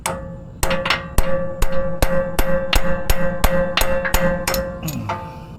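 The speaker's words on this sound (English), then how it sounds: "get your center punch with the pointy end going in, put it in place." A hammer strikes a center punch on metal about a dozen times in a quick even rhythm, each blow a sharp ringing clang, close and loud.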